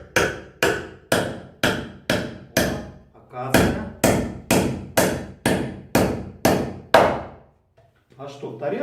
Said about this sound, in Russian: Теперь прибиваем. Не знаю, как пойдет в акацию гвоздик.